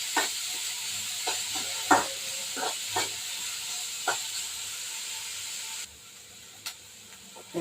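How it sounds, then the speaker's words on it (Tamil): Onions sautéing in a pan for a drumstick gravy give a steady, close sizzle and hiss, broken by scattered clicks and scrapes as a spoon stirs. The sound thins out near the end. No one speaks. "வெங்காயம் வதங்கிருச்சு"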